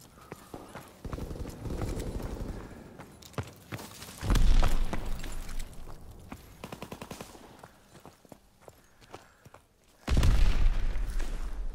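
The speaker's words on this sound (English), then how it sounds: "Enemy mortar fire incoming" Enemy mortar rounds exploding in Call of Duty: WWII, with bursts of rapid gunfire in between and two loud, deep blasts standing out from the crackling battle din.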